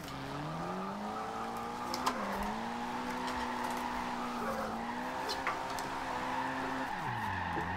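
A drifting Mitsubishi Evo in Forza Horizon 2 holds a long, steady tire squeal that bends in pitch as it slides, over a constant engine drone, fairly close and continuous.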